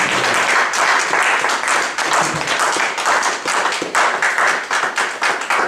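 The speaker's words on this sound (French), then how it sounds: "Est-ce que vous pouvez acclamer le Seigneur? Acclamez." A church congregation applauds the Lord with loud, sustained clapping that fills the room steadily from start to finish, with no talking heard over it.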